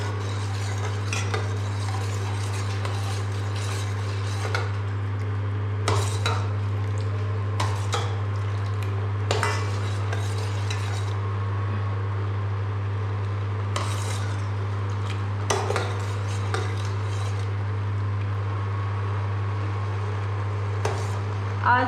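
Custard is stirred in a pot of boiling milk, with intermittent scraping and clinking of a spoon against the pot over a constant low hum, fairly close and without talk.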